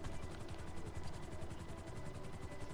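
A video game airplane engine drones steadily with a broad, continuous roar and fluttering low rumble, filling the short stretch at a moderate, even level with no talk over it.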